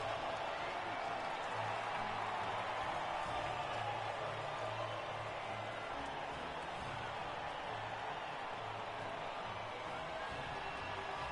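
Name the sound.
crowd cheering at podium, from video game F1 2020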